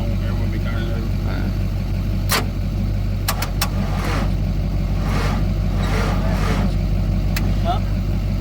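A Timberjack 450c skidder engine that had sat unused since 2007 turns over and catches. A loud, close, steady rumble is broken by a few sharp clanks, and people talk over it.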